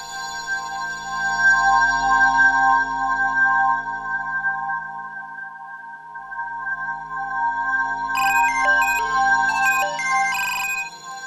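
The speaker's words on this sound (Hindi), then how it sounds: "इदरीस की बेटी का फोन" A melodic electronic phone ringtone plays continuously at moderate volume, a repeating tune that turns busier and brighter near the end.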